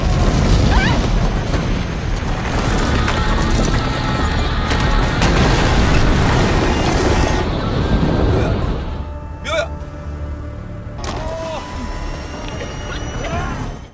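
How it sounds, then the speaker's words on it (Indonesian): A loud, sustained rumbling factory explosion with crashing debris fills most of the clip, then drops to quieter crackles and a few sharp bursts near the end. "Akibat ledakan tadi"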